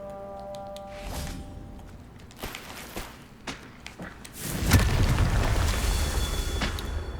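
A Confringo fire spell goes off in the Hogwarts Legacy video game, a booming blast that swells into a loud, rumbling burst after a few sharp thuds and footsteps, with no voices over it.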